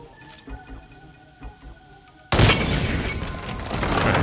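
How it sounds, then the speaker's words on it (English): A sudden loud gunshot bursts out in the Hitman stealth game, a single sharp blast after quiet ambient game sound, with a long noisy tail. "Right, gunshot was heard"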